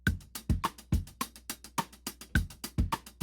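Unedited break beat drum sample, a looping pattern of punchy kicks, snappy snares and hi-hats in a steady groove, dry and alone at modest volume.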